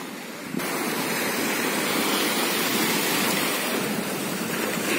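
Surf washing onto the sand at Berdyansk Spit beach on the Sea of Azov, a steady broad rush of waves and wind that fills the whole stretch without pause, loud and close, with no voices.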